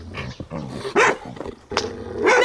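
A female dog growls and barks in short, rough bursts, close and loud, with snarling between the outbursts.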